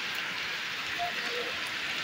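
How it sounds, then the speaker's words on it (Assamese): Steady rain falls outside, a continuous even hiss of drops on surfaces heard from indoors, moderately loud throughout. "যিহেতু বৰষুণ পূৰা বাহিৰত"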